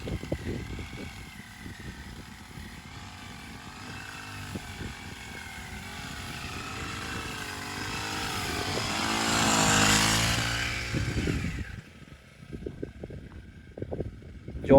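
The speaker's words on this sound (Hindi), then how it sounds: "ट्रैक्टर वाली के साथ मशीन के साथ स्प्रे करवा रहे हैं।" A steady engine drone of a tractor running a sprayer machine nearby in a sugarcane field, swelling louder in the middle then dropping away, with a rising whine and some rattling.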